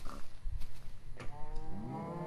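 Cows mooing in Minecraft, two low drawn-out moos close by, the second rising into a longer tonal bellow, with no talking over them.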